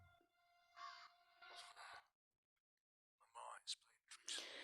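Crows caw in the video game Metel, several harsh calls in two bursts with a silent gap between them, fairly close and moderately loud, mixed with breathy whisper-like sounds.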